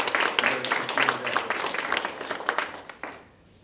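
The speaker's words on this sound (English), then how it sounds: "let's give them a round of applause." Community audience applause at a local foundation meeting, a dense burst of many hands clapping loudly for about three seconds before tapering off into quiet.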